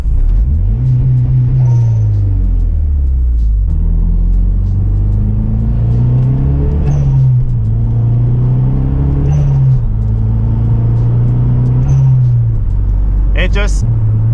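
A MazdaSpeed 3 fitted with an HKS SSQV IV blow-off valve, engine rising and falling through repeated gear changes with short sharp venting bursts at each shift, loud and close over steady road rumble.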